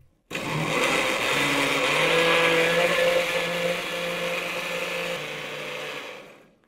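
A countertop blender whirs steadily, churning cake batter of sugar, cocoa powder and milk with the lid on; the loud motor drone starts abruptly, holds for about six seconds with shifting pitch, then cuts off.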